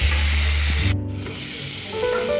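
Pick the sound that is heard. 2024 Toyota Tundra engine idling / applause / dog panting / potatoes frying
potatoes frying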